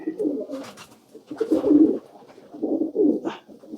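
Racing pigeons in a loft cooing in low, throaty, repeated phrases, close and steady, with soft rustling between the coos.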